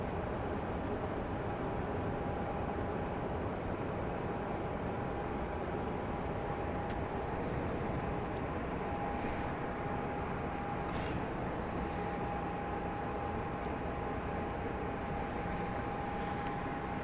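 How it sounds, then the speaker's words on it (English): A Southwest Airlines Boeing 737-800 turning to land at Dallas Love Field at night, heard as a faint, steady, distant jet roar that holds evenly throughout with no talk over it. "1200 from Nashville, Southwest Airlines. 737-800 is about to make a turn to come on in."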